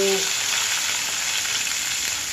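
Curry leaves crackle and sizzle loudly as they drop into hot oil for a Telugu chana dal and coriander curry, a steady dense frying hiss with a brief pop at the start.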